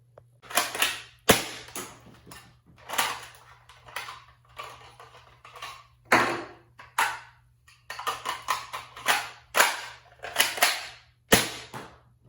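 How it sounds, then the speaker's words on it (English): Nerf Shell Strike pistol-style blaster repeatedly primed and fired, a series of sharp close plastic snaps and clacks in an irregular rhythm, with no voices. "It's got a very comfortable grip, a very smooth trigger, and a very cool smooth priming system. Let's see it fire."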